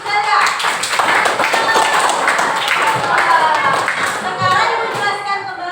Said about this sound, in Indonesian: Tepuk tangan dulu untuk Celia.